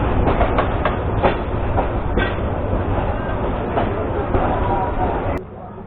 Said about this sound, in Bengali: এখন আমাদের ট্রেনটি ভৈরব বাজার জংশনে প্রবেশ করে ফেলল।